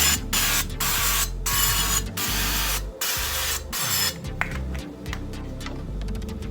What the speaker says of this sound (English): I'm gonna spray my avocado oil on the pan.